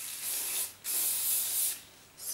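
Hairspray hisses from an aerosol can onto a styled pixie cut with clip-in extensions: three close, steady bursts, the middle one longest, with short pauses between.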